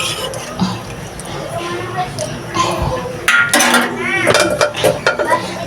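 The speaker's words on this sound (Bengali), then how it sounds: "ঢাকা দিয়ে দিই।" A lid is set onto a cooking pot, a few metallic clanks and clinks of cookware rising in the second half, with kitchen handling noise and a voice talking underneath.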